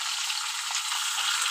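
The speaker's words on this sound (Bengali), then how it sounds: "মাথাটা আমি ভালো করে ভেজে নিই" A fish head frying in oil in a pan as the first step of a cabbage dish: a steady, close hiss and crackle of sizzling fat throughout, with no voices.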